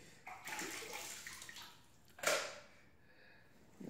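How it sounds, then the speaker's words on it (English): Running water splashes steadily while something is rinsed, a soft continuous wash with a brief louder gush in the middle, close and fairly quiet. "Okay, go rinse it. Rinse it, and do it one more time."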